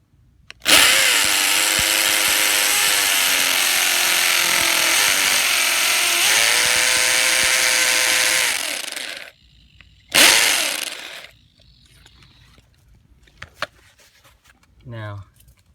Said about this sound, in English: I'm going to do non-hammer drill. So I get to the 1/2-inch part, and then I'm going to hammer.